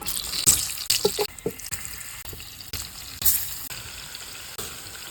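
Tap water runs while radishes are washed in a kitchen sink, giving a close, steady splashing rush. Irregular clatters and drips break through it, and there is no talking.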